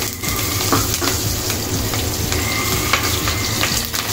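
Curry leaves crackle and sizzle loudly in hot oil inside a clay pot, a dense, close, continuous frying hiss with small pops and occasional stirring scrapes.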